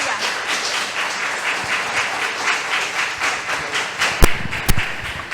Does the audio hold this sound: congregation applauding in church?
yes